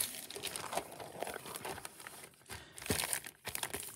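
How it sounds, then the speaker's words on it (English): A plastic bag squeezed and crumpled in the hands to press out the air, a close series of crinkling, crackling bursts with short pauses between them. "Make sure all the air is out of the plastic bag first."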